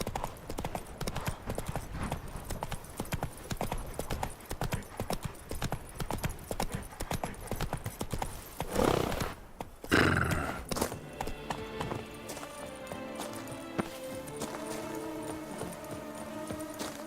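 Roach, a horse in The Witcher 3 video game, gallops in rapid, rhythmic clip-clop hoofbeats, with a brief whinny and burst of noise midway before the game's music and sounds take over.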